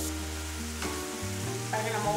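Steady sizzling and bubbling of curry cooking in a pan, close and continuous, with some stirring or clinking noises and no talking.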